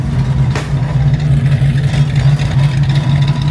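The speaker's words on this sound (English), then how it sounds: "It couldn't be more happy just sitting here," A Ford Mustang Fastback at operating temperature idles steadily, a deep, even engine burble running unbroken and fairly loud throughout, with no talk over it.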